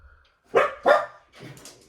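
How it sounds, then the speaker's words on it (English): Two sharp dog barks in quick succession, close and fairly loud, followed by a softer, rougher bark or yip; heard alone with no talking. "Oh, that's my dogs."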